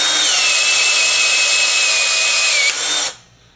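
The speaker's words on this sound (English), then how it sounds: "Now I'm going to use one of our cordless tools just to demonstrate how it sets." A cordless power tool drives and sets an American-made aDP exploding rivet: a loud, steady high-pitched whine that runs for about three seconds, dips briefly near the end, then cuts off into quiet.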